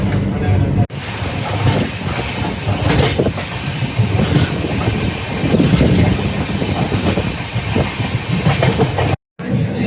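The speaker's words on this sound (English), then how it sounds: "when you're traveling on a double-decker train" A double-decker passenger train between Bengaluru and Chennai rumbles along steadily with a continuous rolling roar and faint rhythmic clatter, loud and close from inside the carriage, with a brief cut near the end.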